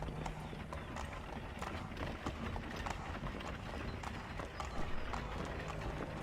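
Horse hooves clip-clopping steadily at a trotting pace as a horse-drawn cart rolls along in Assassin's Creed 3, continuous and fairly close, with faint wheel rumble beneath and no speech.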